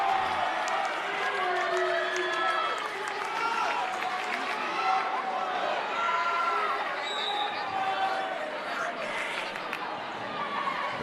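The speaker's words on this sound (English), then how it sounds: "the crowd starting to make some noise" Spectators at a girls high school basketball state qualifier in a gym, Waterloo against Midlakes, keep up a steady murmur and cheers with sneaker squeaks, while a commentator talks over it throughout.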